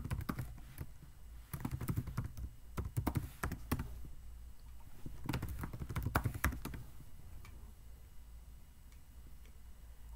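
Rapid bursts of keystrokes tapped on a computer keyboard, clustered in quick runs with short pauses between them, close and fairly crisp over a steady low background hum.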